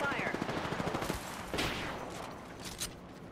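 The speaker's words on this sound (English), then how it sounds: "Taking fire." Rapid automatic gunfire in Apex Legends, a dense close burst of shots followed by a few more fading sounds.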